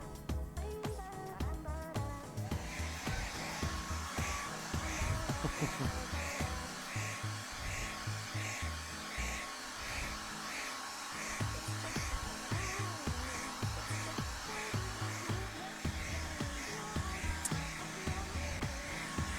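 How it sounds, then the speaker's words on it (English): A hair dryer blows steadily and loudly on wet blue and bright white paint for a landscape painting, a continuous whirring drone that holds for the whole stretch without talk. "I'm gonna have to blow dry for just a second."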